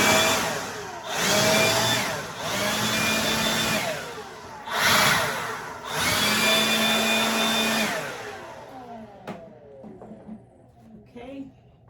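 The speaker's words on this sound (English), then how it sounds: "I'm going to use the blower real quick." A leaf blower clears debris from a front porch, its loud airy roar surging in several bursts of a few seconds each before cutting off near the end, leaving quieter background sounds.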